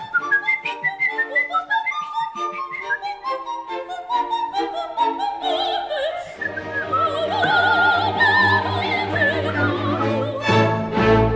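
A person whistles an agile, ornamented melody from Mozart's Queen of the Night Act 2 aria, with quick runs of notes, later joined by an instrumental accompaniment underneath.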